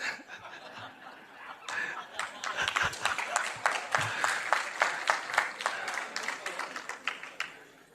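A seated audience at a spiritual discourse breaks into a scattered round of clapping mixed with chuckles and snickers, the claps uneven and overlapping, rising then tapering off over several seconds.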